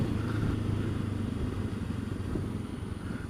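A Ducati motorcycle rides along a country lane with a steady, droning engine rumble and wind noise close to the microphone, holding an even level throughout.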